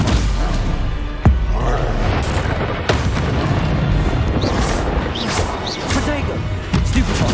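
Spells cast in rapid succession during Hogwarts Legacy combat on PC, with sharp magical blasts, whooshes and impacts that crash and boom over dense game noise, and a voice calling out between the hits.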